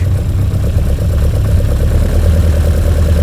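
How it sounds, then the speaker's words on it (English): A small engine runs steadily at a fast idle after carburettor tuning, its low rumbling throb constant and close, with no voices. "I'm tuning that in to weaken it, and the engine's running better."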